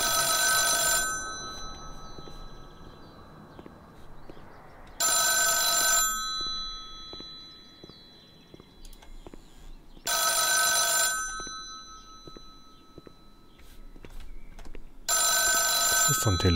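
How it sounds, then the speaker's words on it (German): Telephone ringing in the video game The Town of Light, four loud bursts of bright electronic ringing about five seconds apart, with faint sounds between them. "Das ist so ein Telefon."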